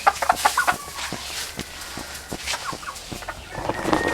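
Native hens clucking inside their coop, a series of short, close clucks and soft calls in irregular bursts over light background noise.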